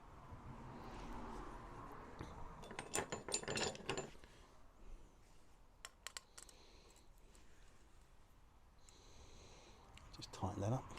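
An M3 nut is wound on and tightened during roof installation on a huge-scale Armortek Jagdpanther G2 RC model tank, giving short bursts of close, dry metallic ratchet-like clicks over a quiet background.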